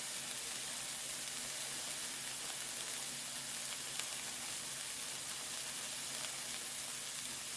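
Onions frying in a pan over high heat give a steady, even sizzle that holds at constant loudness throughout, with no speech over it.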